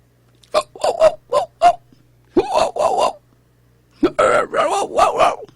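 A voice imitates a dog barking, two groups of short, gruff, yelping bursts separated by a brief pause, close and loud in a quiet room.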